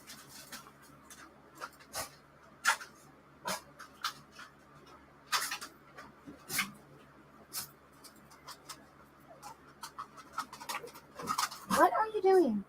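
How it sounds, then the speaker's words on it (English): A small dog gives sharp little barks, about a dozen scattered at uneven intervals and fairly close, while people talk quietly in between. "can you guys hear her little barks?"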